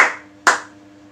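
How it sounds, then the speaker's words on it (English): Children in a young learners' class clap their hands along with a song, two sharp claps about half a second apart, close and clear over faint background tones. "If you're happy and you know it, clap your hands"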